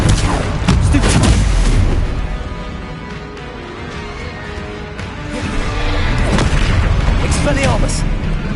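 Spell blasts in a Hogwarts Legacy duel, loud booming impacts and crackling bursts stacked over busy combat noise, with a voice shouting under the din.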